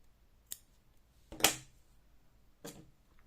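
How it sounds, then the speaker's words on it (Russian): Three crisp scissor snips cut a yarn tail on a crocheted pumpkin bag, spaced about a second apart, the middle one loudest, close and otherwise quiet. "Теперь просто обрезаю хвостик"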